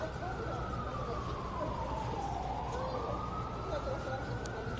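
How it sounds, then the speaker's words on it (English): Siren on a New York City street, a steady rising-and-falling wail running through the whole stretch under constant traffic and crowd noise, with faint voices in the background. "It's more like just sirens, honestly."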